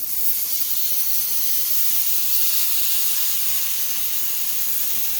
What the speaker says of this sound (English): now you want to hear the sizzle